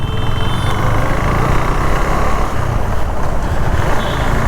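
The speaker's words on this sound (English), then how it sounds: "crazy traffic jam all around." A loud, continuous drone of idling and creeping engines, including a bus, in a traffic jam, close traffic rumbling steadily with no pauses or voices.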